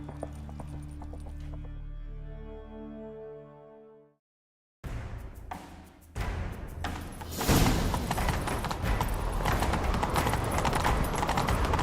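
In the video game The Witcher 3: Wild Hunt, music plays, then cuts to silence before horse hooves clatter in at a quick gallop, building into a loud, busy rush of hoofbeats and motion.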